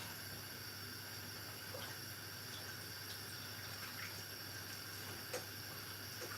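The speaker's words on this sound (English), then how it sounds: "Let me empty the sink here, babes." Water runs steadily as a kitchen sink is emptied, a continuous broadband rush with faint clinks, close and unbroken, with no talk.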